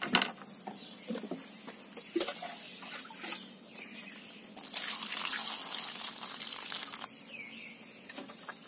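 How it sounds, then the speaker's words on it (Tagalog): Running tap water rinses cooking ingredients, guso seaweed and bulinaw fish, for kinilaw and pinaksiw. Scattered splashes and drips build into a few seconds of steadier flowing water, with faint birdsong in the background. "We need to wash talaga yung ating mga ingredients."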